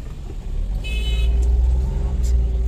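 Road traffic at a busy city intersection, a steady low rumble of car engines passing close by with a brief high horn toot partway through, continuous under faint background voices.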